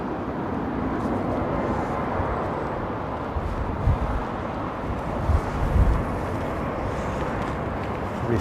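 A Boeing 747, either a Cathay Cargo or Air China jet, arrives on Heathrow runway 27L, heard as a steady, distant, low jet roar with wind buffeting the microphone.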